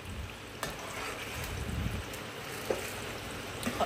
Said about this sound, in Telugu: కొంచెం వేగిపోతాయి అన్నమాట ఎల్లిపాయలు.